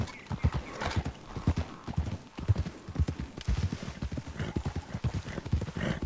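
Horse hooves clip-clop steadily on the ground in the Red Dead Redemption 2 video game, a dense, continuous patter of hoofbeats at moderate loudness throughout.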